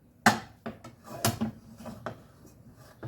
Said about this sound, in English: As I almost pulled the skillet off the stove.